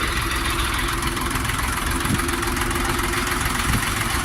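A Jinma 244 tractor engine idles steadily close by, a continuous even rumble with a faint knocking pulse and no voices.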